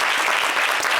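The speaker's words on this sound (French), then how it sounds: "Allez, on applaudit" A studio audience applauds during a French fashion show taping, a dense, loud, continuous roar of clapping filling the whole short moment.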